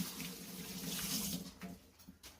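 Hands are washed under a running kitchen tap, a steady splashing hiss of water that breaks into a few short, uneven splashes and drips toward the end, with no talking.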